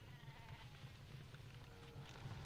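Sheep bleating inside the video game StarCraft II, a faint wavering cry low in the mix over steady in-game background noise, with no talk.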